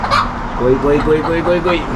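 A country rooster in Abu Dhabi crows nearby in a drawn-out, wavering call over a busy background hum.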